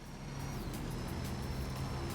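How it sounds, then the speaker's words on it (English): A car engine in Forza Horizon 5 drones steadily at a constant pitch, a loud continuous motor hum with a faint whine above it. "I like the way this car sounds."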